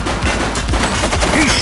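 Gunfire in a police video game crackles in a dense, loud burst of rapid shots, close and continuous, with a voice briefly shouting over it.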